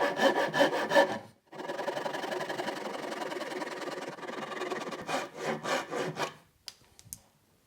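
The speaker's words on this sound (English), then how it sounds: "I'm just going to use a Japanese saw and a piece of plywood" Japanese saw cutting wooden stool legs flush on plywood, rhythmic rasping push-pull strokes, a fast burst, then a long continuous stretch of sawing, then several more separate strokes, close and clear.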